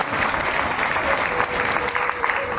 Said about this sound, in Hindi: तो हमारे शर्मा जी के लिए भी ताली जोर से बजाओ।